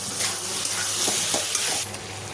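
A generous handful of seasonal peas drops into potatoes cooking with cumin, turmeric powder and salt, giving a soft, continuous sizzle in the pan with faint stirring.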